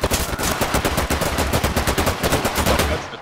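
Automatic gunfire in the tactical shooter video game Ready or Not: a rapid, loud, evenly spaced stream of shots, about six per second, close and continuous with no talk.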